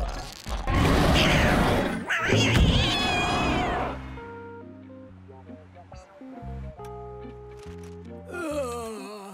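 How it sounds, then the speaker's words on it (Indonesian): Small cartoon kitten meowing in a children's animated adventure, a few short high mewing calls following a stretch of lively dialogue and music, with speech present. "Salim, di depan kita ada kucing kecil."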